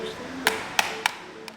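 Four dull taps on a faulty canned fish tin, slightly uneven in timing, the last one fainter, heard up close against a low background hum.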